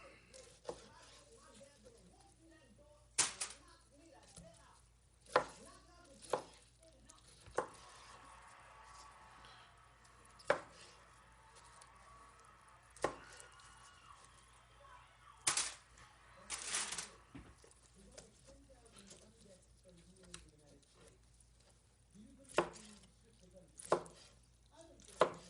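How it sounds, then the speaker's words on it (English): Knife cutting smoked brisket point into cubes for burnt ends on a board, with scattered sharp chops and taps at irregular intervals against a quiet background. "I'm going to go ahead and start cubing this up"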